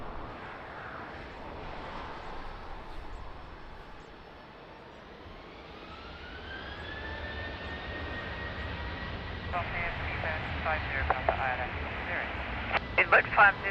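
An airliner powers up for takeoff on runway 20 at Lisbon Airport in the rain, a distant steady engine roar with a rising whine that swells louder, while radio voices talk over it.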